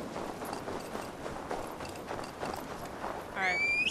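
Horse hooves from the video game Assassin's Creed Valhalla, a steady run of clip-clop beats under game music and ambience, with a speaking voice over the top and a brief whistle-like tone near the end.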